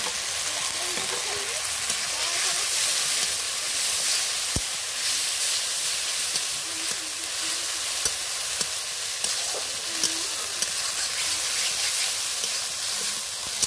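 A ground paste of ginger, garlic and onion fries in hot oil for a black pomfret curry, making a continuous close sizzle with occasional stirring scrapes and no speech.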